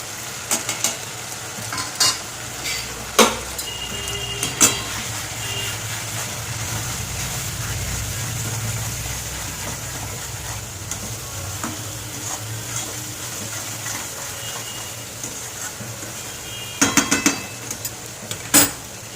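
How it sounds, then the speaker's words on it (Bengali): Ground cumin, turmeric, chili powder and salt fry in a pan for an aar fish curry, a continuous loud sizzle punctuated by sharp clinks and scrapes of the spoon against the pan. "আমি ভালো করে মশলা কষিয়ে নিয়েছি।"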